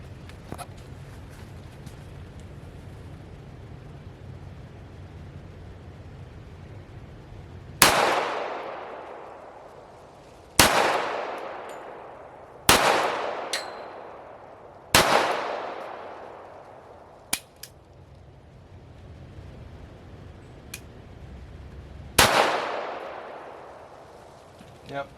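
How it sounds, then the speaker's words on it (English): Single gunshots from hand-loaded ammunition fired at a steel target, six sharp loud reports spaced a few seconds apart, each trailing off in a ringing echo, with quiet background between shots. "let's go ahead and load up the middle section and shoot it"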